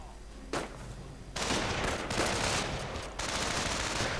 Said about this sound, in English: And there we go, strafing run.